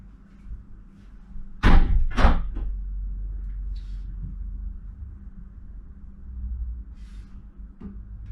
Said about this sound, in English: Shut the door, El's freezing.